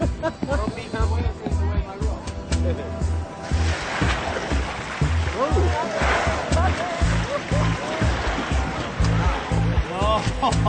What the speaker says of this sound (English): Look at that wave right there, man.